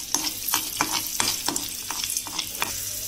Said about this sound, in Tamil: அந்த முந்திரி இதை நல்லா செவக்குற வரைக்கும் சும்மா அப்படி வந்து வதக்கி விட்டுக்கணும்